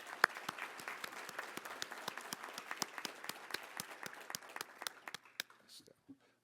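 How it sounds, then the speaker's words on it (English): Scattered applause rises from a modest audience at an annual meeting awards plenary. Distinct individual claps patter at a fairly quick pace, then thin out and fade near the end. "let's have a round of applause for"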